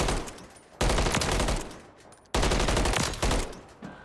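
Rapid automatic gunfire from Call of Duty: Modern Warfare III, fired while strafing left and right, comes in two loud sustained bursts separated by a short pause, with a third burst starting near the end.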